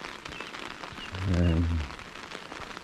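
Steady rain pattering on an umbrella along a lakeside path at Lake Louise at sunrise, a soft constant patter, with a brief spoken word briefly rising over it partway through.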